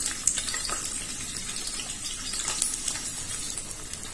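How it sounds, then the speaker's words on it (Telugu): Chopped onions and green chillies fry in a pan, giving a steady close sizzle and hiss with light scraping from stirring throughout. "ఇదంతా కొంచెం బాగా వేగేలాగా అప్పటి వరకు కూడా ఇది ఫ్రై చేసుకోవాలండి"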